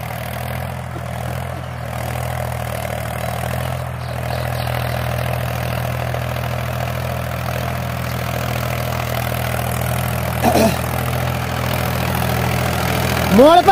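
A tractor engine in third low gear chugs steadily at a low idle-like throb throughout, close and continuous, with a few faint clanks and a brief squeak near the end.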